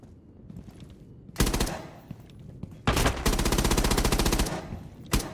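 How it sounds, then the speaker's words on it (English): Automatic gunfire in a competitive online shooter game: two sustained loud bursts of rapid rattling shots, the second longer, then a short final burst, with no talk over them. "That looks like normal shooting and just bad recoil control"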